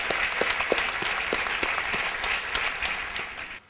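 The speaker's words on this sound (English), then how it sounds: "please give them a big applause" A room of people at a university convocation claps steadily, a dense patter of hands that tapers off near the end.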